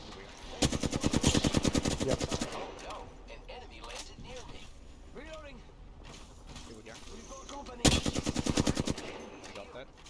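Gunfire in the Apex Legends video game, including Kraber sniper play, rattles out in two loud rapid bursts separated by quieter game sounds and chatter, with a voice talking in between.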